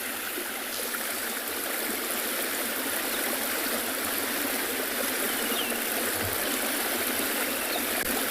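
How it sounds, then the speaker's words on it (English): Water pouring steadily into a dam on a South African safari morning, a loud, constant broadband rush filling the whole stretch without pause, with no voices. "with the sound of the water running"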